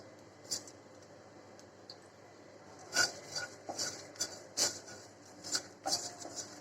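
Cumin and fennel seeds are lightly dry-roasted in a pan for a homemade haleem spice mix, heard as quiet, irregular scrapes and rattles of stirring, with sharper strokes toward the end.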